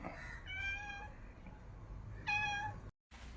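A cat meows at home, with two clear, drawn-out meows close by and a short pause between them over a quiet indoor background.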